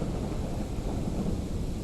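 Deep, continuous rumbling thunder rolls through a lightning storm on the ocean off Norway in a PSVR2 kayaking game, a steady, dense roar filling the scene without speech.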